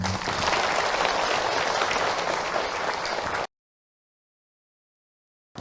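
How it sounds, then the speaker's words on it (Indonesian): Audience at an Islamic religious talk claps loudly and steadily for a few seconds, a dense wash of many hands that cuts off abruptly into silence. "ibu tepuk tangan untuk Ahilman"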